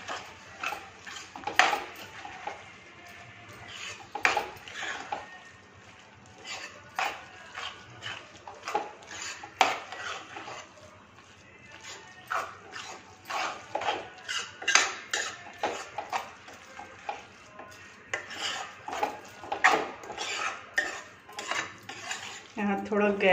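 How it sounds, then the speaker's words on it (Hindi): Shredded cabbage being stirred and roasted in a metal pan, repeated scraping and clanking of a spoon against the pan in an irregular rhythm, close and clear. "ये जो बंद गोभी हमने भुना था वो, इसे हमें अच्छे से भून लेना है।"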